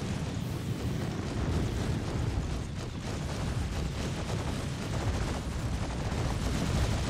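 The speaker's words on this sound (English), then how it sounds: "I'm trying to shoot an Idris" Spaceship weapons firing at an Idris capital ship during a fleet battle in the Star Citizen video game, a dense, continuous roar of rumbling blasts and rapid fire that stays loud and unbroken throughout.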